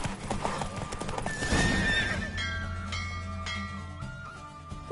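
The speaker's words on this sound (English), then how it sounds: "Don't spare the horse." A horse gallops in a race in The Witcher 3, its hooves drumming in quick rhythm, with a whinny and a rush of motion, followed by bright chimes and tones as the race ends.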